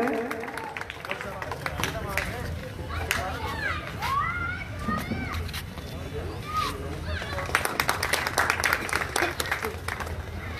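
Crowd clapping and cheering amid lively chatter and children's voices at a cricket event opening, applause swelling toward the end.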